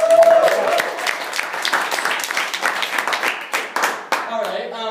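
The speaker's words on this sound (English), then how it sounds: "Can we get another round of applause for Sophie?" A comedy show crowd bursts into loud, dense applause with scattered cheers, sustained for several seconds before tapering off as a voice begins over it.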